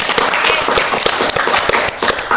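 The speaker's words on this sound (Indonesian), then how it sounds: "jadi kita kasih tepuk tangan dulu dong untuk kita" A small audience at a podcast recording claps together, sharp individual hand claps forming a lively, uneven patter close to the microphone for a couple of seconds.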